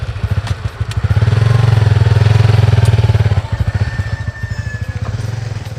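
A motorcycle engine runs close by, its loud pulsing throb swelling into a steady roar for a couple of seconds before dropping back to a choppy, uneven idle.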